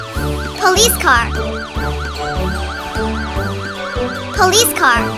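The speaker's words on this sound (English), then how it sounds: "Police car." A loud two-tone police car siren wails in quick repeated sweeps, with a voice speaking briefly over it twice.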